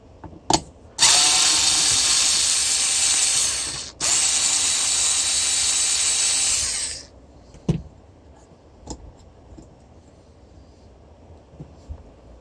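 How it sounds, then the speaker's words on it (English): An electric drill bores a hole near an e-bike's dual motor controller, a loud, steady whir for about three seconds, a brief pause, then another steady run before stopping, followed by a few isolated clicks and taps. "and drill this one. I just started it."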